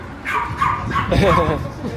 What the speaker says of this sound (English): Check out the dog, all chill.